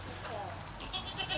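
Goats bleat close by in short, wavering calls over a noisy background during work on installing a new gate in their pen, with people talking through it.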